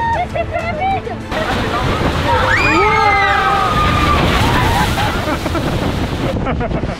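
Water surges and splashes loudly around a ride as excited voices shout and squeal over the continuous rushing spray.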